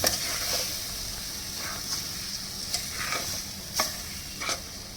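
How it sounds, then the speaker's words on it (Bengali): A spoon stirs gulab jamun mixture around a pan, giving a steady soft scraping hiss with a few brief louder scrapes, close and continuous with no voices. "ভালো করে নেড়ে নিতে হবে নাহলে এটা ডেলা পাকিয়ে যাবে"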